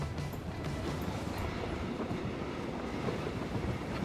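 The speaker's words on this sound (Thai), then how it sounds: "อยากรู้ว่ารถไฟจะชนรถหรือเปล่า" A train rolls along rails in PUBG, a steady dense rumble with faint clickety-clack running unbroken at moderate level, no voices over it.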